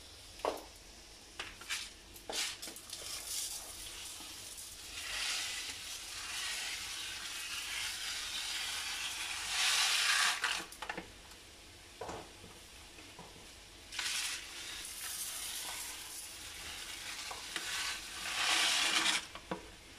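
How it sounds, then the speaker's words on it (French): Paella rice with squid, cuttlefish and shrimp sizzling steadily in a pan over medium heat, broken by scraping, clattering stirs of a utensil that come and go throughout. "On va mélanger jusqu'à que le riz soit translucide"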